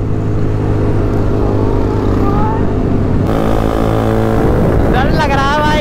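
Motorcycle carrying a rider and a passenger at speed on a highway, its engine a loud, steady drone with rushing wind running throughout, no break in the noise.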